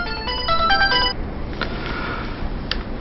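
A phone ringtone plays a bright electronic melody of quick tonal notes for about a second, then stops, leaving quiet room noise with a faint click.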